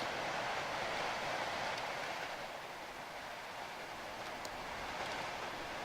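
A Class 92 electric locomotive in the Trainz railway simulator runs steadily at about 40 mph, a continuous broadband rumble and rolling noise with no clear breaks.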